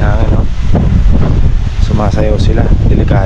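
Strong gusts of typhoon Pepito roar steadily past the microphone with loud buffeting noise, and someone talks over the wind.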